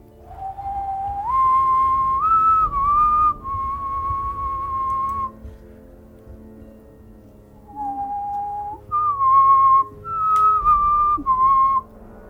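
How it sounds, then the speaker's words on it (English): A person whistling a short melodic phrase, clear and close, in several rising and falling held notes with brief pauses between, alone without talk. "I whistle back."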